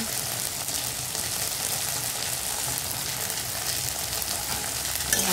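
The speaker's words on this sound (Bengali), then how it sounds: "করে কষাবো মশলাটা।" Spices with turmeric and salt fry in oil in a pan, a loud, steady sizzle that fills the whole stretch with faint stirring underneath and no talk.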